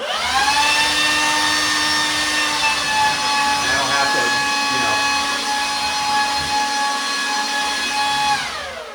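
A cordless DeWalt or Makita battery leaf blower held at a steady cruise-control speed, a loud, even high-pitched electric whine and rushing air close by that runs for about eight seconds before spinning down.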